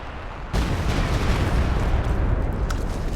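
A walking Stuka incendiary rocket barrage in Company of Heroes 2: a dense, loud, continuous roar of rocket impacts and explosions that starts abruptly and holds steady throughout.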